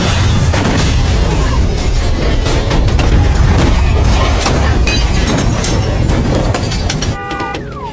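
Time bombs planted in parked cars detonate in the crime film Law Abiding Citizen, a loud, continuous roar of blasts and rumbling debris filling the whole stretch before tailing off slightly at the end.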